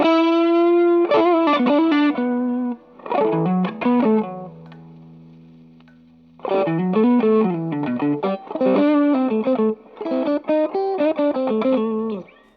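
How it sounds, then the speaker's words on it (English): Overdriven electric blues guitar played through effects pedals, with raked strums and bent notes in short loud bursts, a sustained chord ringing out in a mid-phrase gap; instrument alone, no talking. "A lot of blues players will do a lot of these like rakes"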